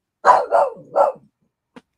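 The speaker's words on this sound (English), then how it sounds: "I have 2 dogs, and I'm assuming they heard something outside." Two pet dogs barking indoors, three quick loud barks in a row followed by a short faint yip after a pause, close to the microphone.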